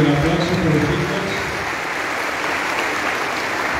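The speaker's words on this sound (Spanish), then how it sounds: "Fuerte el aplauso por los chicos" Churchgoers applaud the young confirmation candidates at a confirmation Mass in a parish, a strong rush of clapping that is loudest at first and then settles into a steady, slightly softer patter.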